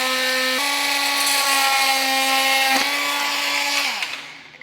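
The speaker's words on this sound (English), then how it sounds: "we're just taking a multi-tool and zipping these little connectors off" Oscillating multi-tool cutting through small plastic connectors on a 2024 BMW X7 during a hidden hitch receiver install, a steady high-pitched buzzing whine that holds for several seconds, shifts pitch briefly, then winds down.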